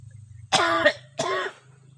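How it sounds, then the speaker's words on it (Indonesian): Two harsh, throaty coughs from an elderly man after chanting, close to the microphone, about half a second apart, over a low steady hum. "Kita gas sedikit udah batuk karena napasnya udah di ujung-ujung tenggorokan."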